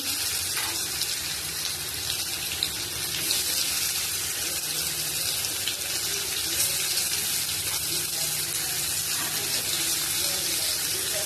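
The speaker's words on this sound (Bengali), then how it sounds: "এবারে ফুলকপিটা ভেজে নিচ্ছি" Cauliflower fries in hot oil in a pan, making a dense, unbroken hiss of sizzling that stays loud and close for the whole stretch.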